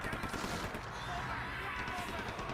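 Continuous rapid gunfire in the video game Outlast crackles throughout, dense and steady, with a low rumble beneath and no pauses.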